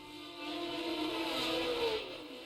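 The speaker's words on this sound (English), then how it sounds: "As the field of 16 cars howled away from the start and up the hill towards Casino Square, Jackie Stewart was in the lead." Grand Prix race cars of 1970 at Monaco howl away from the start, a sustained high engine wail rising and swelling over a couple of seconds, steady and fairly distant.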